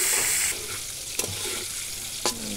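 Bottle gourd frying in a pan on a clay stove, giving a steady close sizzle with two sharp scraping strokes of a spatula stirring it.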